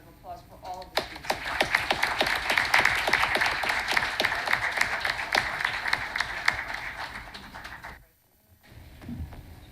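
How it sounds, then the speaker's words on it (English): Applause for students at a township council meeting, a sustained burst of many hands clapping with voices mixed in, fading out near the end before brief talk resumes. "Please have a round of applause for all of the students."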